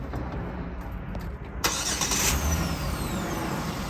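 A Jeep engine cranks and fires at about the midpoint, then settles into a steady, loud running idle close by, with no talk over it.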